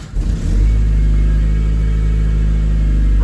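A 96 Sonoma pickup fitted with a swapped 2.2L engine drives off, its engine rumbling loud and steady at close range after a brief start, with no talk over it.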